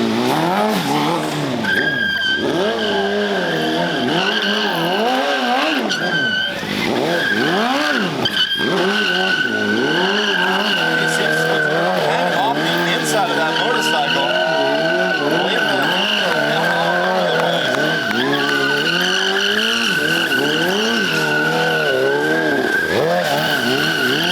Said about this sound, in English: This time with the feet off, coming all the way around. Huge 180-degree stoppie.